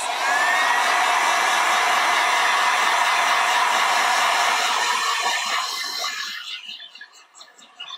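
A strong heat tool roars steadily up close while drying IndigoBlu paint stamped onto fabric, holding a constant whoosh before tapering off and fading toward the end.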